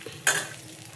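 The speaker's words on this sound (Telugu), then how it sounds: "ఆవాల దగ్గర కొంచెం ఎక్కువ వేసేసి మంచిగా వేగనిద్దాం." Mustard seeds dropped into hot oil for a chutney tempering give one short, sharp burst of sizzle that quickly fades to a soft hiss, close and brief.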